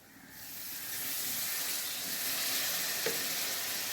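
Mackerel pickle masala in a pan surges into a loud steady hiss and sizzle as vinegar is added, building over the first second and holding, with a faint stir knock near the end.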